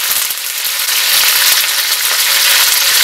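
Curry leaves and green chillies hitting hot oil for lemon rice, a loud, dense, crackling sizzle that fills the whole stretch without letup, very close.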